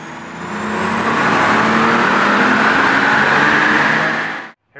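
A single-turbo Toyota Supra on a dyno runs at wide open throttle, a loud sustained engine roar with a rising whine that climbs steadily through the pull, then cuts off abruptly at the end.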